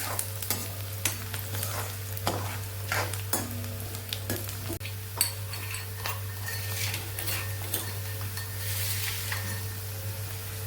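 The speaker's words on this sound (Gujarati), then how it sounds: "ડુંગળીને આપણે સાતડી લેવાની છે" Onions sauté in a pan for a winter mixed-vegetable khichdi. A continuous frying sizzle runs under repeated metal spoon scrapes and clinks, with a steady low hum in the background.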